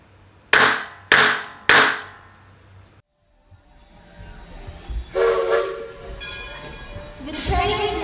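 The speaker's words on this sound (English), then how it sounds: "The train is now leaving the Interpretation Station." A train departs as a sound effect: three sharp bursts of steam hiss, a brief pause, then a rising rumble of rolling wheels with whistle-like tones on top.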